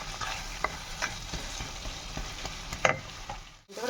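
A spoon stirs spices with fenugreek in a pan over a low flame, giving soft scraping strokes and a faint steady sizzle, quiet and close with no talking.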